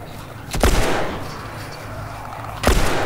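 Gunshots in the video game The Last of Us, two loud, sharp booming reports about two seconds apart over a low ambient background.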